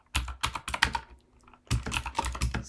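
Quick bursts of typing on a computer keyboard while writing code, two clusters of close, crisp key clicks separated by a short pause, with no talking.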